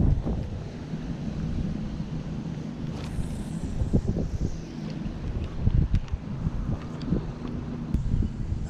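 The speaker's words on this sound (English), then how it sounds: "It's a windy and rainy day today." Steady wind buffets the microphone on a windy, rainy day at a lagoon in Ocean City, Maryland, with a constant low rumble and occasional soft gusts. There is no talking.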